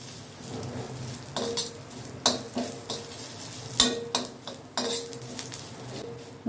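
Ground lentil spice paste sizzles in hot oil in a pan over low gas for bedmi poori, with a spoon repeatedly scraping and clinking against the pan in an uneven stirring rhythm.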